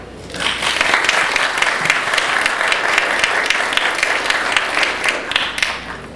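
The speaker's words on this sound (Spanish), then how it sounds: "Recibamos con un fuerte aplauso a la doctora Verónica." An audience at a legal congress in Mexico City applauds to welcome a speaker to the stage, a loud, dense wash of clapping that holds steadily for several seconds.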